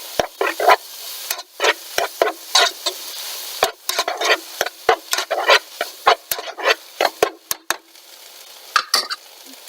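Chopped tomatoes get stirred in a pan of oil, with a run of quick scraping strokes and soft bursts of sizzle that come in an uneven rhythm, close and fairly clear.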